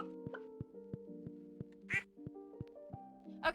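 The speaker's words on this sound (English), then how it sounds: "I love how happy the duck sounds." A duck in the video game Stardew Valley Expanded quacks twice, bright and close, over a looping cheerful music track with steady plucked notes.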